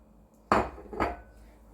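Two short scraping clinks of a spoon against a bowl while mixing salt and sugar, close by, with a quiet pause between them and no talking.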